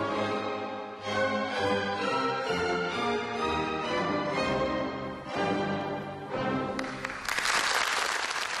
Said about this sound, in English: Lots of applause and bravos for the managers.